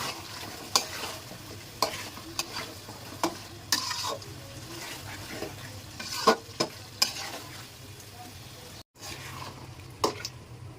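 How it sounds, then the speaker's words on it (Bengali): Beef pieces stir-fried in a cooking pot give a low, continuous sizzle, with repeated sharp scrapes and knocks of a spoon against the pot every second or so and a brief gap near the end. "এখন মাংসগুলো দিয়ে দিচ্ছি আস্তে আস্তে, জাল দিয়ে মানে হালকা আছে মাংসটা আমি কষিয়ে নেব"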